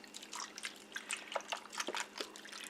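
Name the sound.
pouring beef broth into Instant Pot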